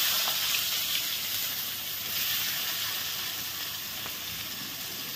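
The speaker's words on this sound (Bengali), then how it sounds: "একই তেলে আমি এখন পেঁয়াজগুলো দিয়ে দেবো। দিয়ে দিলাম গোটা রসুন আর দিয়ে দেবো পেঁয়াজ।" Onions and whole garlic cloves frying in hot oil give a steady, bright sizzle and hiss, close and continuous, with no voices over it.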